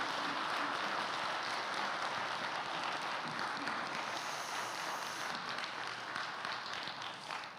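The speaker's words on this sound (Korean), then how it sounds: "우리 갈릴리 찬양대원들 위해서 다시 한번 뜨겁게 박수 보내주시기 바랍니다" A church congregation at a Christmas worship service applauds the Galilee choir with dense, sustained clapping that fills the hall evenly at moderate distance, slowly easing toward the end.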